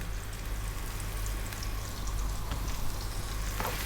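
One cup of onion with salt and black pepper sizzling in corn oil in a pan over fairly high heat, a steady, dense, close frying hiss that goes on without a break.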